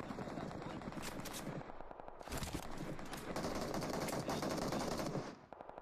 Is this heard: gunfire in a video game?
yes